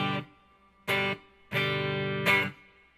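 An electric guitar plays through the clean channel of a Peavey amp, with reverb set at 9 o'clock. Four chords are strummed in turn, each ringing briefly with a short reverb tail, and no one speaks.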